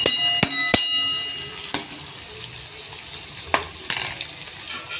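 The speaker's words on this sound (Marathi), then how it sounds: "आता आपण त्याच्यामध्ये टोमॅटो, अर्धा टोमॅटो टाकू" Half a tomato goes into a pan of browning onion and fries with a steady sizzle, broken by several sharp clicks and scrapes of a utensil against the pan.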